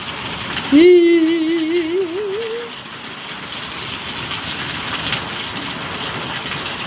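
Heavy rain falls as a loud, constant wash of drops. Early on, a brief wavering voice-like tone rises above it, and the downpour then continues alone.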